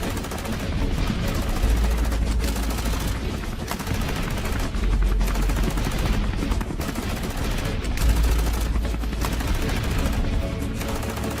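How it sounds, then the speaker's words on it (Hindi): Rapid cartoon-style gunfire bursts, a sustained loud barrage of machine-gun rattle and shots with brief pauses between volleys, filling the whole stretch without talk. "और उन पे गोलीबारी करने लगता है।"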